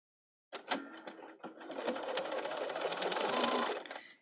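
A Bernina 770 sewing machine runs continuously while sewing bellows pleats, starting abruptly after a brief silence and holding a steady, close mechanical whir to the end.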